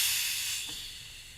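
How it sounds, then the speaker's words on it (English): Gas hisses out as a shaken bottle of carbonated drink is opened gently, a steady close rush of hiss that starts loud and slowly fades over about a second, with no talking. "Let's open the bottle gently."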